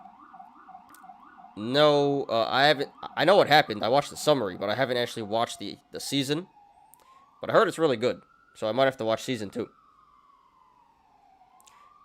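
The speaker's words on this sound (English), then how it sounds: "Sorry about the sirens, guys." Emergency vehicle sirens pass outside a room, their wailing tones audible at first alone and then continuing underneath a person who talks over them, rising and falling steadily through the whole stretch.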